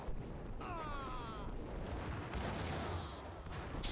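Rapid gunfire from the video game Max Payne fills the clip as a dense, continuous barrage of shots, with whooshing and ringing effects layered over a steady roar of game noise. No one speaks.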